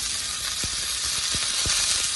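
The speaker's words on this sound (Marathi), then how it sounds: "तेल आपलं तापले, त्यामध्ये आपण 5 चमचा मोहरी, 5 चमचा जिरे, 10-12 कढीपत्त्याची पानं," Mustard seeds, cumin and curry leaves sizzling in hot oil for a khaman dhokla tempering, a loud steady hiss with a few crackling pops.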